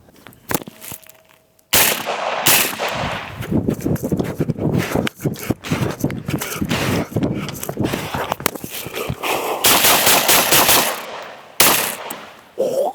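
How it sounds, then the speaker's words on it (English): Rifle shots at an outdoor range ring out in rapid, loud bursts with sharp impulsive cracks and echo tails, a quiet pause at the start and a few gaps between volleys. "Let's take them out and shoot them and see if we can capture some of the different gas behavior on camera."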